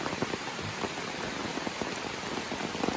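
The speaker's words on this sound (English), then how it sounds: "The weather report said it was going to rain as a result of the tropical storm." Heavy rain from a tropical storm pours down on a wet evening along the Appalachian Trail, a steady dense hiss with scattered sharp drops spattering close by and no voices.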